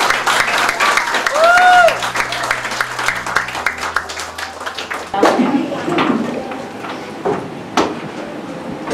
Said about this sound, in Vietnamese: Một tràng vỗ tay thật lớn